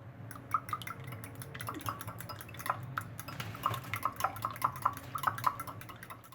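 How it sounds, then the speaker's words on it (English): Eggs are whisked with salt and pepper in a bowl, with a quick run of light clinks and taps of utensil against the bowl, faint and close, gathering pace toward the end. "you mix them with salt and pepper in a bowl"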